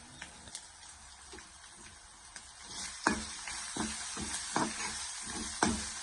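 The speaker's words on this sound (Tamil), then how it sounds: "ஒரு நிமிஷம் எண்ணெயிலே நல்லா வதங்கட்டும்" Boiled beef pieces coated in turmeric fry in oil with a soft, constant sizzle. After a quiet start, a few distinct stirring scrapes and knocks come at intervals, close by with no speech.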